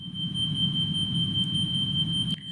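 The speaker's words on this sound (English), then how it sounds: "This is what the alarm sounds like." A steady high-pitched electronic tone from an Airbus A320 cabin evacuation alarm drones continuously over a low rumbling hum, ending with a brief click.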